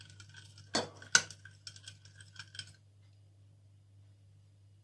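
A spoon stirring warm milk and dry yeast in a kneading bowl, a handful of faint, light clinks and taps for a couple of seconds, then near silence.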